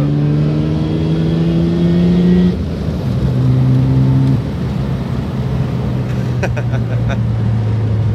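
A car engine idles with a deep, steady rumble that shifts pitch a couple of times, close by, with faint background noise.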